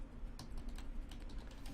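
Quiet keystrokes on a computer keyboard while building a website, a quick irregular run of soft clicks heard close over a low steady hum.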